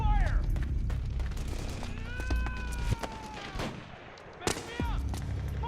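Gunfire in Metal Gear Solid 4 crackles in repeated sharp bursts over a dense, noisy battle din, with loud shots standing out near the end and shouted voices mixed into the chaos.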